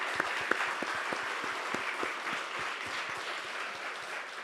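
Church congregation applauding together during a Sunday worship service, a steady, dense wash of clapping with a few sharper individual claps standing out, sustained evenly throughout without speech.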